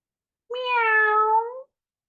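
A person imitates a cat with a single drawn-out meow, clear and close against silence, lasting just over a second, recorded as a sample in GarageBand.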